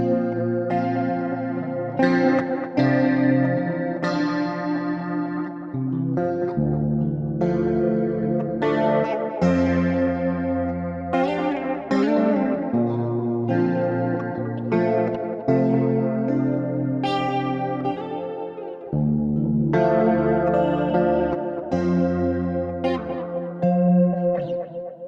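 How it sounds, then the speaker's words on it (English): Guitar played through a dream pop preset in Logic Pro, with a live DI tone washed in heavy modulation, chorus and tape delay, chiming chords and notes echoing continuously, with no voices. "It's supposed to have that very live DI presence, but also with just a bunch of space, a bunch of modulation, and some tape delay"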